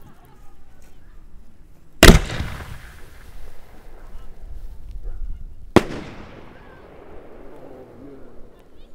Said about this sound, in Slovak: Ide ďalšia domáca 75-ka, táto by mala byť červená, tak na túto sa tešíme najviac.